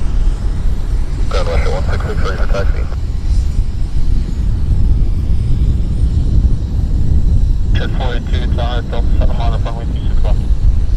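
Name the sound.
Citation jet aircraft landing at Vancouver Airport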